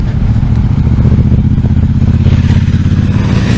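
Loud, close motorbike rumbling down the street, a heavy steady low throb with slight clatter, sustained throughout the clip.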